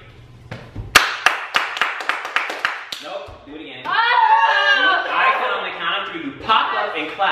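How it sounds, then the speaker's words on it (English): A group of people clapping their hands together in unison, a run of sharp, evenly spaced claps close by, followed by chuckling and laughter. "everybody's going to pop back up and clap their hands 5 times"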